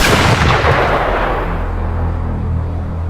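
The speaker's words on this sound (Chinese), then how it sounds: "开枪把丧尸干了" A loud, booming gunshot in a zombie horror film cracks at the start, then its echo rolls away and fades into a low rumble.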